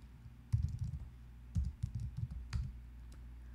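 Three quick bursts of close keyboard typing, clattery keystrokes with short pauses between them, in a quiet room.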